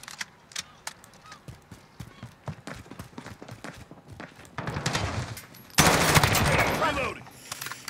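Automatic gunfire rattles out in a multiplayer shooter game, with scattered shots building to a loud, dense burst near the end, mixed with footsteps and game effects.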